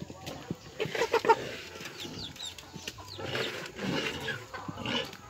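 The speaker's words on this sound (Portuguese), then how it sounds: "Tem altas galinhas grandona lá." Chickens on a small farm cluck and call in bursts, fairly close, with scattered rustling and other livestock noises around them and no talk.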